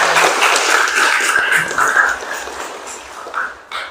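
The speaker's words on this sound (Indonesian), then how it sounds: "Tepuk tangan dulu buat Ijar." A classroom audience gives a student a short burst of applause, the scattered clapping close and fairly loud, with voices murmuring and speaking over it as the clapping thins out.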